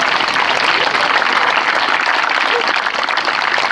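Audience applause at a baseball legends hall of fame ceremony, a loud, dense, sustained wash of clapping from a large crowd with no break.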